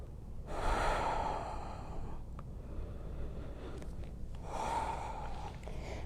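Slow, deep yoga breaths during a flow class in a studio: two long, audible exhalations, the first near the start and another toward the end, close and breathy over a quiet room hum.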